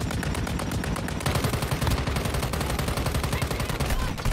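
Gunfire in the mobile shooter game Call of Duty: Warzone Mobile comes as rapid, loud automatic bursts of shots in a dense, continuous stream.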